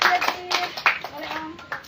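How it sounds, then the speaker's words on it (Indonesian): A small group claps hands at a live session during a book handover, with a few loose, scattered claps mixed with nearby talk and children's voices. "Tepuk tangan dong."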